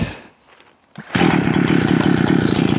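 A BU-KO multi-tool's small engine, choke on and never run before, catches after a quiet pause and a thump, then runs at a loud, steady buzzing idle close by, with no voices.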